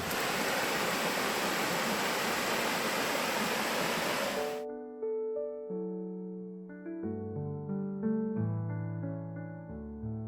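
A mountain valley stream in Angol valley on the Bukhansan trail, heard from a bridge: steady, loud rushing water fills the first half, then cuts abruptly to music.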